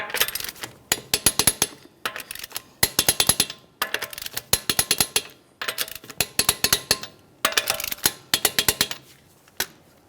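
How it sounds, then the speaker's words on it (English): Torque wrench on the front wheel lug nuts of a 2009-2014 Nissan Maxima, rattling out rapid loud ratchet clicks in repeated bursts with brief pauses between nuts, close and alone. "let's go ahead and torque these in a crisscross manner."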